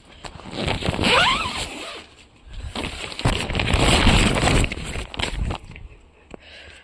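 A zipper on the fabric cover of a small mini greenhouse is pulled open in two long rasping strokes, close to the microphone, with faint rustling between them and no speech.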